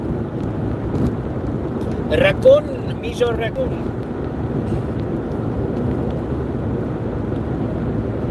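Steady low wind rumble buffeting the microphone, with a person talking briefly over it.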